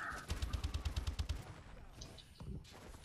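A rapid burst of about a dozen close gunshots from Call of Duty: Advanced Warfare, evenly spaced, then quieter game sounds with a faint voice.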